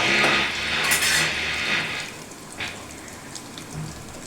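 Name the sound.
cinnamon, fennel and cloves sizzling in hot oil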